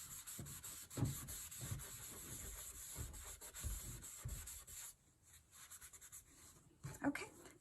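A Kleenex tissue rubs over a pencil drawing to shade it, making soft, close, scratchy swishing strokes in short bursts that pause and resume, with a quiet hiss in the background.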